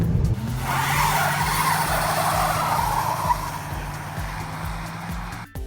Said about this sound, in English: stop here and then do a burnout.